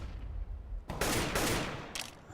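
Rapid gunfire in a Counter-Strike match, a sharp burst of close shots near the one-second mark followed by a second shorter burst, set against low in-game background rumble.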